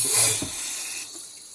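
Water splashes and hisses onto a Land Rover Defender door seal, a short gush tapering into a softer trickling spray, close and fairly loud with no voices.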